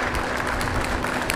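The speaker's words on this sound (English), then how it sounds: "Applause for Boston Police Officer Michael Ridge" Applause from a gathered crowd outside a hospital welcoming a Boston police officer, limping in a knee brace, as he is discharged after being wounded in a Dorchester standoff; steady, dense clapping sustained throughout with no speech.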